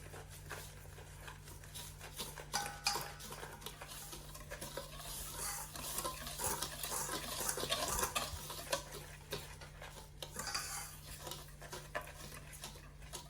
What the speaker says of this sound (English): And then you mix all the ingredients well together.